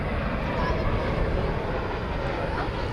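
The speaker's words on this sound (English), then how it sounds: "American 3156 from Los Cabos is an Airbus A321." An American Airlines Airbus A321 arriving from Los Cabos on approach to land at DFW Airport gives a steady, broad jet roar that holds level and loud for the whole stretch, with a voice talking faintly underneath.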